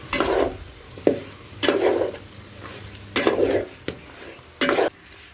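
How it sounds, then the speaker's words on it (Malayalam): Chicken shallow-fries in bubbling oil for a Kerala-style chicken curry and is stirred in a pan. Four loud bursts of stirring and sizzling alternate with quieter bubbling, and sharp utensil clacks sound against the pan between strokes. "എണ്ണയൊക്കെ ഒഴിച്ചിട്ട് നല്ല രീതിയിൽ ഇളക്കി കൊടുക്കുകയാണ് കണ്ടില്ലേ അടിയിൽ കിടന്ന എണ്ണയൊക്കെ തിളതളാ തിളയ്ക്കണത്"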